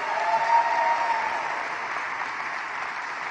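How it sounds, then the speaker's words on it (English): At a city's State of the City address, an audience claps for the Chief Administrative Officer: steady, moderately loud applause from a sizable crowd, even and sustained without talk, heard from some distance in a large hall. "let's give a round of applause to our Chief Administrative Officer"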